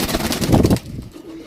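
Pigeons coo close by in a low, throaty burst lasting under a second, followed by quieter ambient sound.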